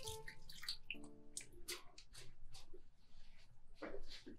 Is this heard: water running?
yes